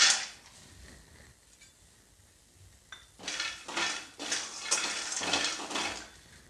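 Peanuts dry-roasting in a kadai on a gas stove: after a quiet start, a run of loud scraping, rattling stirs and clinks of nuts against the metal pan, close up, with no talk.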